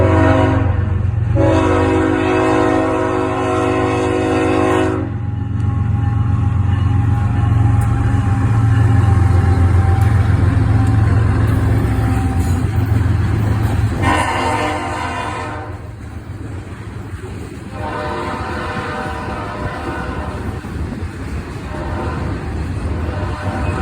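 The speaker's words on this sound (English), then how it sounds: "it would be 12Q, a daily mixed manifest train out of Elkhart, Indiana to Bellevue, Ohio" A 12Q daily mixed manifest freight train with a BNSF leader and an SD40-2 second unit rumbles steadily past at close range, its horn sounding in several loud long blasts over the continuous roar of locomotives and rolling cars.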